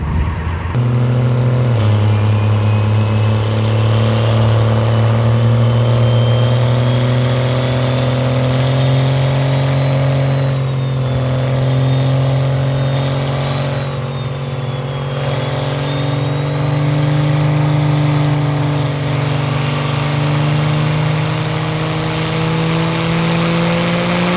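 A diesel truck held at high revs on a dyno at a transmission shop event, a loud sustained drone that climbs slowly in pitch over about twenty seconds, close and unbroken.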